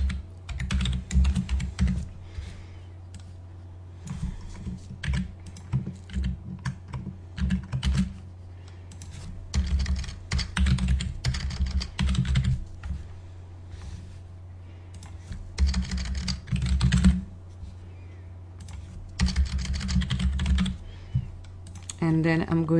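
Close, clattering keystrokes on a computer keyboard come in irregular bursts with short pauses, as code is typed for an Oracle PL/SQL program, while a voice talks intermittently over the typing.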